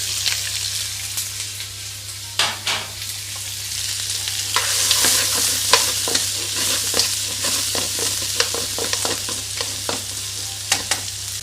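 Onions frying in hot oil in a pan, a steady loud sizzle with crackling pops and occasional stirring scrapes, close up with no voices.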